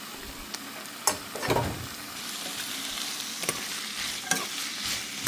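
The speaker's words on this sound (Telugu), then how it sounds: "ఇప్పుడు దొండకాయలు వేసుకో" Chopped ivy gourd (dondakaya) frying in a pan, a steady close sizzle broken by a few sharp scrapes and stirring clatters of a spoon against the pan, with no talking.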